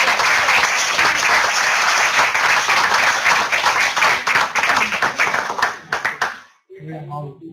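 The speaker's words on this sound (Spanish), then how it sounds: "Otro aplauso por el valioso aporte." An audience at a climate change and health lecture applauds to thank the speaker, with dense clapping that breaks into separate claps and stops, followed briefly by a voice speaking.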